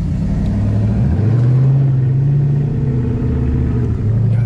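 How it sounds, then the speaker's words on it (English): A straight-piped Chrysler 300 with a Hemi V8 and a muffler delete rumbles loud and close, its deep exhaust note swelling in one rev and then holding at a steady throb. "You got muffler deletion on there? Yeah, it's straight pipe."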